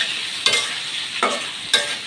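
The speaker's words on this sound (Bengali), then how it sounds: "এখন আমি ভালো মতো নাড়াচাড়া দিয়ে দিই।" Eggplant with turmeric and salt is stirred in a hot pan, three distinct scraping strokes over a steady close sizzle.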